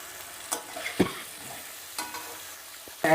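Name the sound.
chicken with tomatoes and lemon being stir-fried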